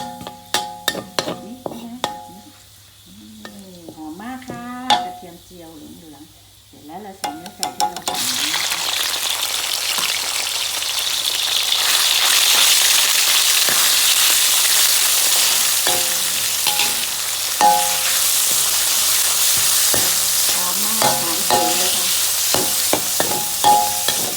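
Chicken sizzles loudly in a hot pan with garlic, rising to a steady crackling stir-fry as ingredients are stirred, with someone speaking intermittently over it.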